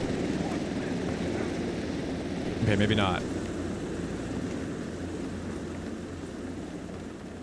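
Helicopter in the Brakkesh map of a video game, a continuous rotor and engine drone at moderate distance that runs steadily under a person talking.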